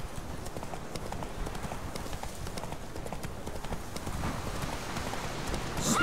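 Horse hooves galloping in The Witcher video game, a fast, steady clip-clop rhythm of repeated hoofbeats over a rough ground-noise bed, growing slightly louder toward the end.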